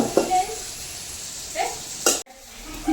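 Cumin and cardamom fry in a pan with a soft background sizzle, broken by a few scattered clinks and one sharp scrape near the end. A voice is heard faintly.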